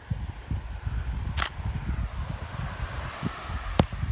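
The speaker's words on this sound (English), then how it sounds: "So I'm going to do a quick little test shot." A Nikon D7200 DSLR fires a test shot outdoors while shooting a landscape, giving a faint early click and a crisper shutter snap near the end. Both sound against a steady low rumble of wind on the microphone.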